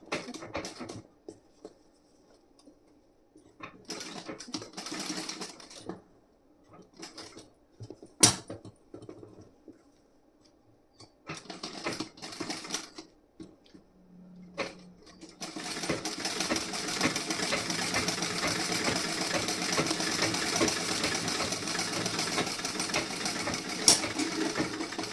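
Domestic sewing machine running a firm straight seam across the front panel of a blouse, with short bursts and pauses early on, then a steady, louder continuous whirring stretch that runs alone without talk.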